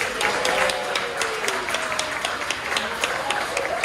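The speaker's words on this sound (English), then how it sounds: "Give them a round of applause." Restaurant audience at Beaches and Cream at Disney applauding in a steady, dense patter of clapping that holds evenly throughout, fairly close, with no speech over it.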